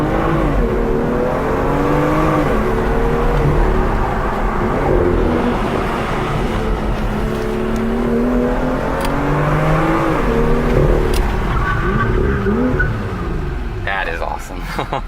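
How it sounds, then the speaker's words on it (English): A BMW M2 accelerates hard to about 60 mph and then brakes sharply, its engine note climbing through rising gear pulls, heard from inside the cabin under continuous talking, with the roar dropping away near the end. "I'm gonna accelerate out to 60 and then slam on the brakes"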